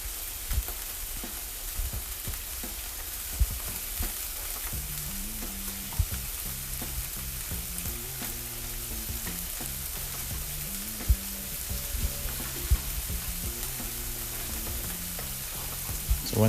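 Fish fries gently in a pan for a seafood risotto, giving a steady soft sizzle with faint crackles and occasional light clicks of utensils, no voices.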